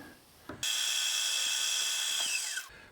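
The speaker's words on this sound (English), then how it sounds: "push the drill all the way through, see whether it lines up with the hole at the bottom" A power drill whines steadily for about two seconds, boring through metal, then spins down with a falling pitch; short quiet handling noises before and after.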